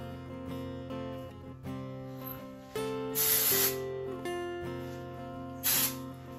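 Texture spray misted onto hair during a curling-iron styling session, two short hissing bursts heard close up over soft background music.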